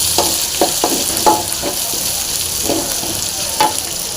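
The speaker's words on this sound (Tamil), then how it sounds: "வெங்காயம் சேர்த்து நல்லா ஃப்ரை பண்ணிக்கலாம்." Onions fry with garlic in a pan for a jackfruit seed masala, a loud, constant sizzle throughout, broken by several soft clanks and scrapes of stirring.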